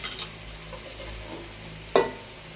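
Calabash and sardines being stirred and lightly mashed in a frying pan, a low steady sizzle with soft scraping, then one sharp clack of the utensil against the pan near the end.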